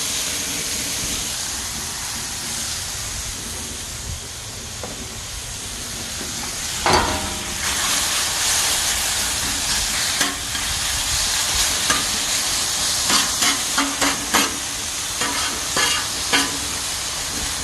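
Venison backstrap and beef heart sizzle steadily on a Blackstone griddle, a continuous frying hiss broken by scrapes and clatters as the meat is tossed around with a spatula, close and fairly loud.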